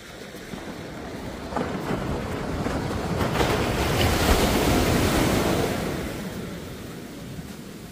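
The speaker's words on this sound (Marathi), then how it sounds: "आता तुम्ही लाटांचा आवाज ऐकू शकता." Sea waves rolling onto a Konkan coast beach with a broad rushing swell that builds and fades, mixed with gusty wind buffeting the microphone.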